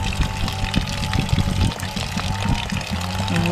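Water pours and gurgles out of a full gallon container at a deep well, a steady splashing flow with uneven glugging pulses throughout.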